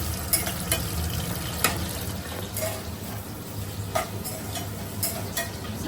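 Chicken for biryani fries in a pan until browned, a steady sizzle broken by several sharp ticks and clinks of a stirring spoon, close and alone.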